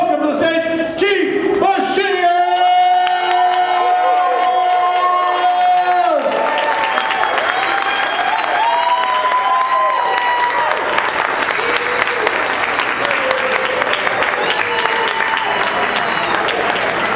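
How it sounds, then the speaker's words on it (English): A voice announces Keith Bashir over music on stage. The room then swells into loud, continuous applause and cheering from a large standing audience that carries on to the end. "get on your feet, give a big round of applause, welcome to the stage, Keith"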